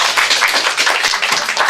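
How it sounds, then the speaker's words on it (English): Classroom applause for a student presenter, a short burst of close, loud, fairly rhythmic clapping from a group of pupils. "Okay, let's give James a round of applause"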